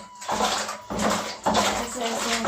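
Water is poured in three close surges while buttermilk and butter are made in a traditional Uttarakhand mountain household, the splashing loud and steady with short breaks between pours.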